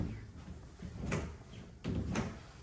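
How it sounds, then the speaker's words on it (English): A pair of linen closet double doors open in an empty, bare house, with two soft, brief clacks and rattles about a second apart, faint against a quiet room. "Linen closet, double doors."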